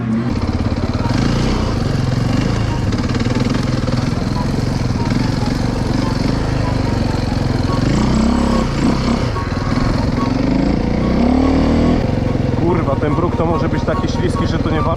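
A KTM motorcycle engine while riding, a loud continuous rumble with rising and falling revs, a voice over it.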